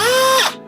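A die grinder with a sanding attachment smooths the cut face of a natural wood tea-light candle holder, whining loud and high, then spinning down quickly to a faint hum.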